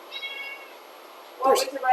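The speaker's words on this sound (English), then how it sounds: "There's a cat." A cat meows in a short, clear call near the end, following faint background tones, with people talking around it.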